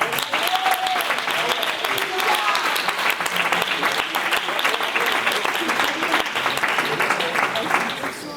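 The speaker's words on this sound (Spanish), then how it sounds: "lo vamos a recibir con un aplauso" Church congregation applauds to welcome the youth group of the mother church in Castellón, a loud, steady wash of clapping lasting throughout with some voices mixed in.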